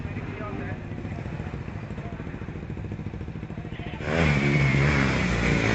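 Yamaha YZ250 250cc supermoto motorcycle at a hill climb competition, its engine droning steadily nearby, then revving harder and louder near the end, with a commentator's voice over it.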